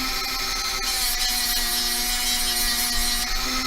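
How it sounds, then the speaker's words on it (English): Steady close sanding scrapes excess solder from the band of a wide beaded ring, a continuous abrasive rasp with no pauses. "I'm just going to take this and just get rid of that solder that flowed all over the band of my ring"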